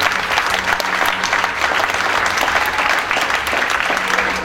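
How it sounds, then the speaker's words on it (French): A crowd applauds in a hall, thick continuous clapping at full strength with a low hum beneath, steady from start to finish. "on peut les applaudir, ouais"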